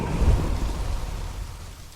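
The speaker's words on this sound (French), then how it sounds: "Ça va aller, l'orage va bientôt s'arrêter." A thunderstorm with rain pouring steadily and a deep rumble of thunder that swells early, then fades into the continuous hiss of rainfall.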